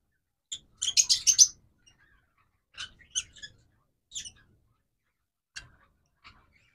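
Pet lovebirds and cockatiels give short, high chirps in brief clusters, one busy burst followed by a few sparse single calls, fairly close and with quiet gaps between them.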